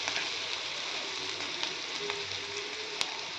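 Crushed garlic and chillies frying in oil in a pan, a steady close sizzle with faint crackles and a sharp pop near the end, no voices.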